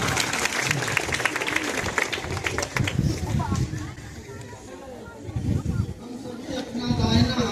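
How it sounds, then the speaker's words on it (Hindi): Applause from an assembled school audience at a morning assembly session, greeting Nazrul sir: moderate clapping comes in bursts and swells again toward the end, with background voices mixed in. "नजरुल सर के लिए जोरदार तालियां।"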